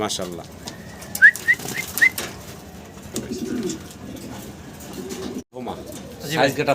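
Big-sized Andalusian pigeons, a laying breeding pair for sale, give a few short rising coos in quick succession, with people talking throughout.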